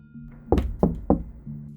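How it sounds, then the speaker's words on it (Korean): Three firm knocks land on a room door at night during a windy storm, evenly spaced and close by, with a low hum before and after. "할아버지가 방문을 노크하며 내가 자는지 물어보았다."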